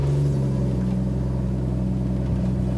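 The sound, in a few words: Rolls Royce Ghost with Novitec valve exhaust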